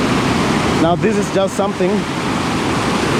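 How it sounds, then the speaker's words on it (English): Nabuyole Falls on the river at Webuye, Kenya, gives a broad, steady roar of rushing water, with someone talking briefly over it near the middle. "By the river of Nabuyole Falls."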